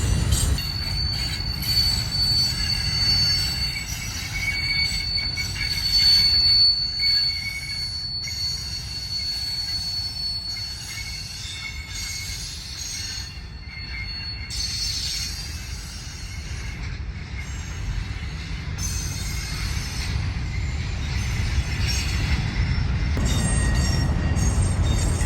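A freight train hauling trash, with locomotives at both ends, rolls in on the UP Condon Branch, wheels squealing in long piercing tones over a steady rumble for the whole stretch.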